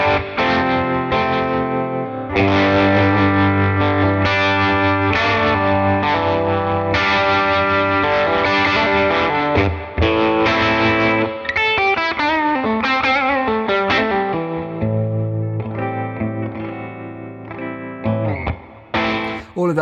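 One of the first hundred Gibson Les Paul electric guitars played loud through an amplifier, a continuous stream of distorted, biting chords and sustained notes with some effects coloring, running steadily for the whole stretch.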